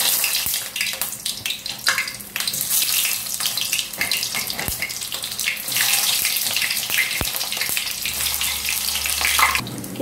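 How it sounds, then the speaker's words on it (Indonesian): Chicken nuggets fry in hot oil, giving a steady, close, dense crackling sizzle that runs throughout with a few sharper pops and no talking. "Minyaknya udah panas teman-teman, aku masukkan nuggetnya."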